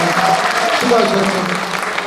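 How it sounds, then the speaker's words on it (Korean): An audience claps steadily at a community festival in an elementary school's indoor gymnasium, with a voice speaking over the applause. "박수 한 번 좀 크게 보내주시죠"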